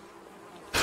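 Flies buzz around a freshly killed corpse in the video game Project Zomboid, a faint hum that swells abruptly into a loud, close buzzing burst near the end, with no talk.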